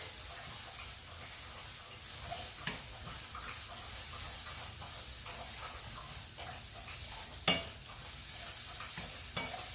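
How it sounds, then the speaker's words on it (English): Garlic and broccoli slaw stir-fry in a pan, a soft, continuous sizzle and hiss with occasional utensil clicks and one sharper clatter near the end, with no speech. "I'm going to add in half my bag of broccoli slaw."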